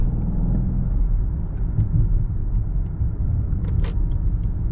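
Steady low rumble of a 2015 Rolls-Royce Wraith cruising smoothly, a muted, continuous road and engine hum heard from inside, with a few faint clicks and rattles near the end.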